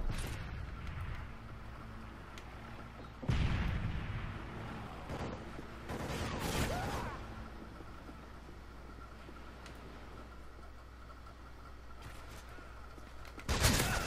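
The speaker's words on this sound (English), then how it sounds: "This is the way we call in a predator missile" A predator missile strike in Modern Warfare 3 arrives as a few distant booming explosions spread over the stretch, with a rumbling aftermath and a final loud blast against a quiet hum of battle ambience.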